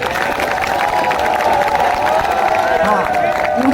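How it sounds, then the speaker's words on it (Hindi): An audience at a Hindi kavi sammelan poetry gathering during the Dussehra fair in Chittorgarh breaks into loud, sustained applause and cheering, with dense clapping and crowd voices throughout. "इसे कवि सम्मेलन की तालियां बजाओ।"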